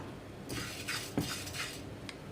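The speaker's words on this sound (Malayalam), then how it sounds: "അരി ഒന്ന് ഇളക്കി കൊടുക്കാം" Rice being stirred in a pan while making rasakalan on a stove at medium-high flame, giving light scraping and clinks with one sharper knock near the middle, close and fairly quiet.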